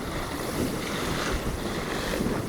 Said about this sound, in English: tables of water race in across the flat sand